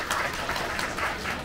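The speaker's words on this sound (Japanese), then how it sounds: "拍手送ってやってくれ" Faint, brief applause from an audience at a Tokyo DisneySea show, a soft, wash of clapping heard from a distance.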